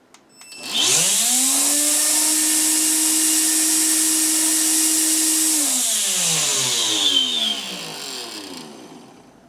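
A repaired Electrolux Ergorapido Lithium vacuum fan whirs up to a high, steady whine, holds for several seconds, then winds down with a falling pitch, with a possible slight rubbing noise.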